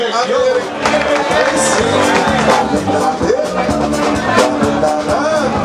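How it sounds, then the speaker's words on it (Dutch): A live concert audience claps and cheers for the sound engineer, a dense, sustained wave of applause with voices and chatter mixed in, lively and close. "Mag ik even applaus voor Erik"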